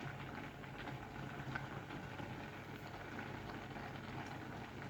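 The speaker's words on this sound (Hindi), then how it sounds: "अभी ये 2-3 उबाल आए हैं और तकरीबन ये हाफ डन हो गई है।" Chana dal simmers in a pot at a rolling boil, a faint, steady bubbling burble with soft pops, continuous and low throughout.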